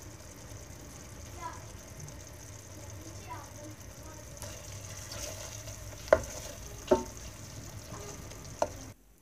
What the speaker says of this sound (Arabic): وغادي نخليو المرق ديالنا حتى يتشحر ويتدغمر كيف كتشوفوا على هذا الشكل هذا